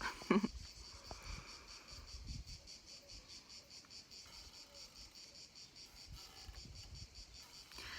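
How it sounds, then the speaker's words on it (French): Cicadas buzz steadily throughout in a dense, pulsing drone, with faint background noise and a brief knock near the start, no voices. "J'espère que vous les entendrez un petit peu quand même les cigales"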